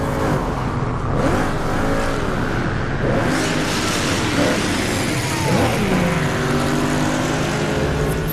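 A sturdy, quick car racing in the video game Burnout Paradise, its engine droning and revving steadily throughout with shifting pitch as it speeds along.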